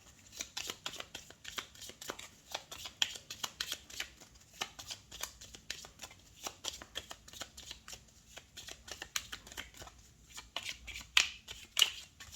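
Tzigane oracle cards being shuffled by hand, a steady run of crisp riffling and flicking bursts with short pauses, close and fairly quiet, with no voice.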